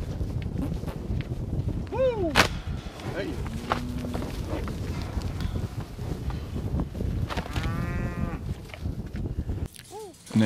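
Cows mill about in a cattle pen, giving a few drawn-out moos near and far, with shuffling hooves and footsteps throughout and people talking nearby.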